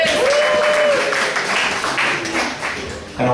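A comedy club audience at the Ice House bursts into loud, sustained applause for the MC, dense clapping filling the room with a few cheers mixed in.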